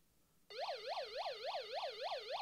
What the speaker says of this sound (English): long press the button to turn on siren function